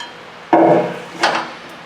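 A rusty brake rotor pulled off the wheel hub of a 2005-2011 Dodge Dakota, giving two close metallic clunks and scrapes about three quarters of a second apart, with no talking.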